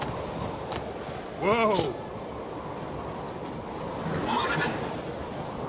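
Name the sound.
horse Roach galloping and neighing in video game The Witcher 3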